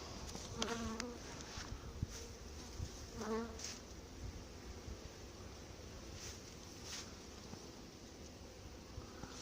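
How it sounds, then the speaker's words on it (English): Honeybees buzz around a nuc hive being prepared for winter, with several bees droning past close by against a steady, faint outdoor background, with no talk. "It's amazing, these honeybees, they'll fly over the homes, they'll fly to wherever."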